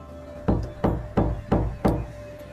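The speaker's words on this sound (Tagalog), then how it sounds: "biglang narinig ko ang katok mula sa kama ni Kuya." Five hollow, evenly spaced wooden knocks, close and distinct, landing about a third of a second apart against a faint steady hum, with no voices.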